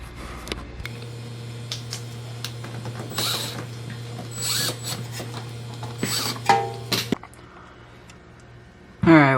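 A ratchet works bolts loose on an Audi A4 B8/8.5 during a grille install, with several short bursts of quick mechanical clicking over a faint steady hum, close by and moderately loud.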